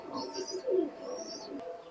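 Pigeons at a loft, a soft low coo rolling under a couple of thin chirps and faint background chatter, close and brief.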